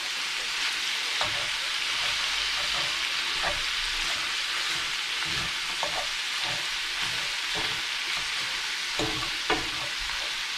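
Meatballs and mushrooms for spaghetti sauce sizzle steadily in a pan, a continuous close frying hiss broken by occasional stirring scrapes and small pops, with no talking.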